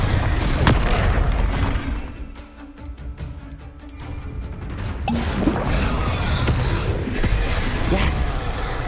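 Confringo fire-blast spell going off in Hogwarts Legacy: a loud booming burst with crackling debris, amid dense game noise and a speaking voice.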